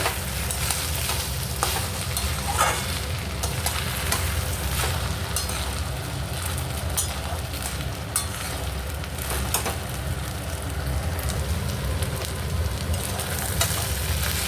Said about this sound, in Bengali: দেখুন আমি ভালো করে নেড়ে নিয়েছি